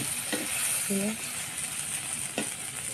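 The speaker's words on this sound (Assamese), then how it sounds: "এতিয়া কাচকলটো ভাজিম।" Pieces of plantain fry in a small amount of oil, without water, in a home kitchen pan. A steady, close hiss of sizzling runs throughout, broken by a few light utensil clinks.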